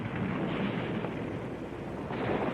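A gunpowder-filled clay pot bomb goes off in a western: a loud, sustained roaring blast with rumbling debris, heavy and close, lasting a couple of seconds with no voices.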